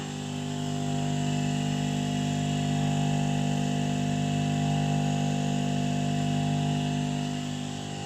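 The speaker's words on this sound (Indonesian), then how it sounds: "Motor putar kanan, kita hidupkan. Maka dia akan berputar ke arah kanan." A three-phase electric motor runs in forward rotation, giving a steady, loud, even hum with strong tonal layers that swells slightly at the start and holds constant, with no talking.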